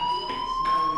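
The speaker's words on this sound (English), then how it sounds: "Hey, do you hear that fire alarm?" A school fire alarm in the video game Life is Strange blares as a steady, high electronic tone with faint pulsing, loud and continuous throughout.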